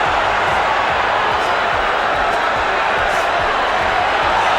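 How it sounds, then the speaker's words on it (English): A loud boxing arena crowd roaring during a heavyweight fight, a dense continuous wash of cheering and shouting that fills the whole stretch, with low thuds underneath. "crowd is roaring."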